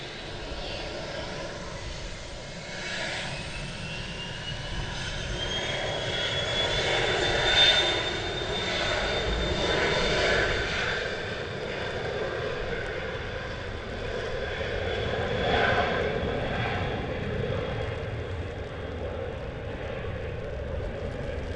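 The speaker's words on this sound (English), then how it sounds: "Cargolux just taxiing off." A Cargolux Boeing 747 jet taxiing at Stansted Airport gives a steady, fairly loud engine roar with a rising whine, swelling and easing over a long stretch, heard alone without talk.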